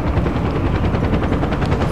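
A helicopter in the video game Far Cry 4 gives off a loud, close, continuous rapid rotor thudding, dense and unbroken, with no voices.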